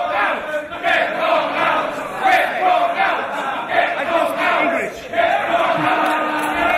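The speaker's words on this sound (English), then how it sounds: "Kong out, say the crowd." Wrestling crowd at a Dragon Gate UK show chanting "Kong out" in a steady, loud, rhythmic roar of many voices filling the hall, with no individual speaker standing out.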